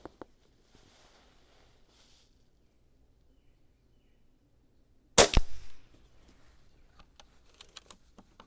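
A single sharp crack from a Niksan Elf PCP air rifle, .22 or .25 caliber, fired on a bench, stands out against near silence, with some faint clicks and small handling noises before and after.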